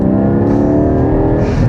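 A Porsche 718 Cayman GT4 engine revs hard with automatic throttle blips on downshifts on a Swiss mountain pass, a loud, close, harmonically rich snarl rising and settling, with no talking.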